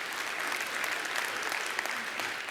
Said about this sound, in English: how about a round of applause for all of our teachers here?